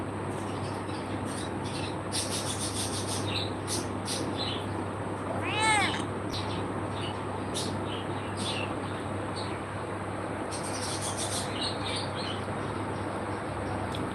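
A domestic cat lets out a single clear meow midway through, standing alone over a steady low background hum with no talking.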